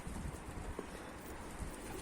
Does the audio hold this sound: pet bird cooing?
yes